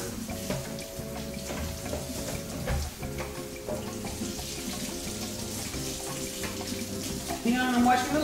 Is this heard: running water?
yes